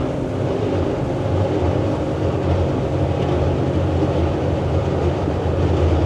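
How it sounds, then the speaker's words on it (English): A Yellowfin YF-70 extended cabin boat running at full throttle, its engine a loud, steady roar blended with rushing water and wind buffeting, continuous with no talk. "We'll go full throttle now."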